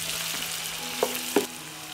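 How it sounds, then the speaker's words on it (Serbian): Onion and garlic sizzle steadily in hot oil, an even close crackle with a couple of brief utensil taps near the middle. "Dodajem beli luk i sve ću pržiti dok luk ne omekša."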